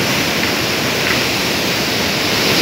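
Torrent of river water roaring through the Gajoldoba barrage on the Teesta, a loud, steady broadband rush filling the whole clip with no voices.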